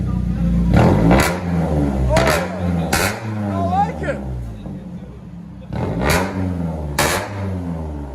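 BMW Z3 with a 3.0L inline-six and straight-pipe exhaust, revving hard several times, loud and close, rising and falling in pitch between blips, while someone talks over it.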